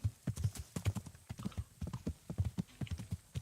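Hooves clip-clop in a brisk, steady rhythm as a horse is ridden in Kingdom Come: Deliverance, the close, repeated hoofbeats sounding clearly on their own.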